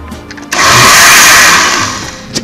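A blender roars loudly for under two seconds, mixing papaya with seeds, watermelon, Swiss chard and celery into a drink, then winds down and stops.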